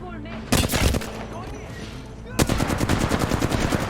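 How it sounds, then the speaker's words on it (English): Rapid automatic gunfire in the Apex Legends battle royale shooter crackles in two loud bursts, a short one early and a longer sustained volley near the end, with a quieter gap between them. "get up behind the barricade, and pop off some more shots"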